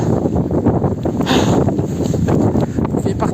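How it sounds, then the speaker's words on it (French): Gusty wind from a storm in Quebec buffets the microphone with rumbling, uneven bursts, loud and close throughout. "Le vent dans la tronche."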